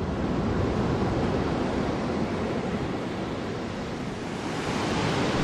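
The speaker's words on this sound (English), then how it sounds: "The waves look very inviting, but as you remember they are treacherous." Ocean waves wash steadily onto a deserted beach on Kauai, Hawaii, a continuous loud roar of surf with some wind noise and no distinct breaks, no voices.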